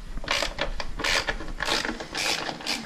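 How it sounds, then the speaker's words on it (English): Ratcheting and clicking from hand tools loosening the rear wheel axle on a 2017 Yamaha R6 motorcycle, a steady run of close metallic mechanism noise in repeated bursts with no talk. "So let's go ahead and take off the"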